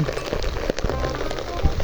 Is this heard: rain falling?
yes